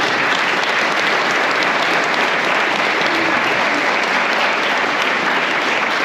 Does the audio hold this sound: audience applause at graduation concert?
yes